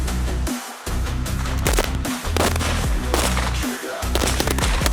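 Rapid bursts of gunfire at a military shooting range crack and repeat in clusters, loud and close, with brief pauses between volleys and a reverberant, outdoor feel.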